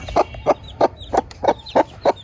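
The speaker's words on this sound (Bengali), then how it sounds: "মুরগির কি অবস্থা বাচ্চাগুলোর" Chickens with their chicks cluck in short, evenly spaced bursts, about seven clear calls in quick rhythm, close by with faint background noise.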